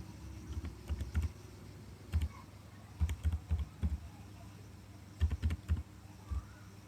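Bursts of quick keystrokes on a computer keyboard as a phone number is typed in, clicking in short clusters with brief pauses between them.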